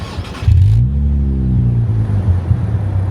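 Nissan Fairlady Z NISMO RZ34 fitted with a Fujitsubo exhaust starts up with a sharp blip, then settles into a deep, steady, loud idle rumble close to the microphone.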